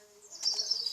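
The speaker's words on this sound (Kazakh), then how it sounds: "құстардың несі естіледі" Small birds chirp outdoors, a short high twittering that rises in the second half of a brief, fairly faint moment with no talk.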